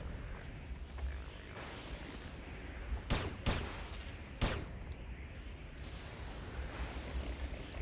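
Pistol gunfire in the online role-playing game Anarchy Online: a few sharp, distinct shots, including a close pair, stand out over a rumbling game background with faint ambient noise between them.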